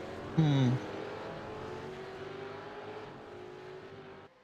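V8 race cars thunder down Conrod Straight at Bathurst during an East Coast V8s round, one loud rising engine note peaking early then fading into a sustained distant roar of several cars.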